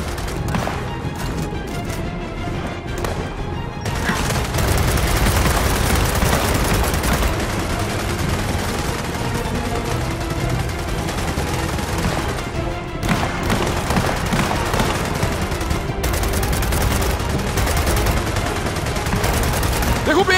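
Video game Gears of War 4 combat, with rapid bursts of gunfire and booming impacts loud over a busy battle soundscape, while voices shout in Portuguese between shots.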